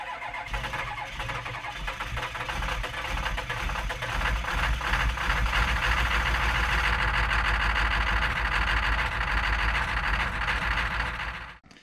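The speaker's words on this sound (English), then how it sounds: "We've got the 1023E John Deere tractor back in the shop today because we have a throttle issue." A John Deere 1023E compact tractor with a throttle issue runs close by, its engine rising to a louder steady drone after about four seconds and holding before cutting off at the end.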